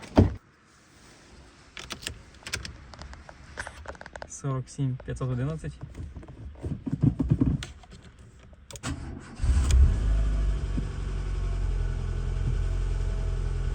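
A Renault Clio with 47,000 km on it being started up, a short crank catching into a steady idle that rumbles on loudly; people talk over the moments before ignition.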